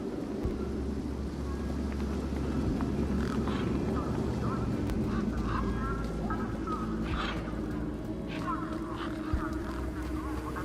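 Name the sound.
birds squawking near truck in Beyond a Steel Sky video game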